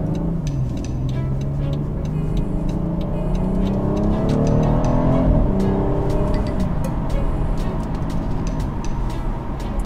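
A BMW M car accelerates onto the Hunaudières straight at Le Mans, its engine climbing in pitch through the gears under steady road and wind roar, heard from inside.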